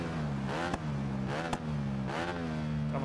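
A Ducati motorcycle in the racing game Ride 4 drops down to second gear, its engine note repeatedly falling and surging with brief blips between shifts, a steady close revving drone with no talk.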